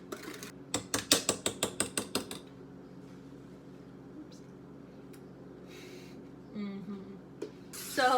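Chocolate chip cookie dough is mixed in a kitchen with a rapid series of about a dozen rhythmic mechanical clacks, like a mixer or utensil working, then quieter handling noises and a few faint knocks, with some voice sounds.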